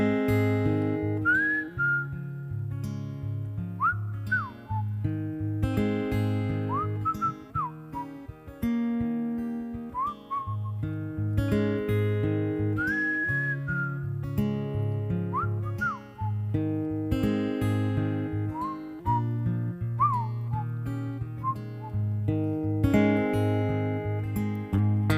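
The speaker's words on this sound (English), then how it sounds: "this is my whistle solo." A man whistles a melodic solo live over steady instrumental backing, with clear sustained notes and quick slides recurring throughout.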